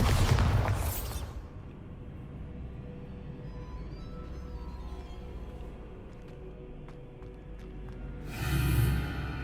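Two heavy booms from a Bombarda spell explosion in the Hogwarts Legacy game, a loud blast at the start and another near the end, with a low rumbling fade between them.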